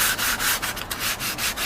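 Sandpaper is rubbed along the side edges of a wooden craft piece being prepared for napkin decoupage, giving a rapid series of close, scratchy back-and-forth strokes with no voices.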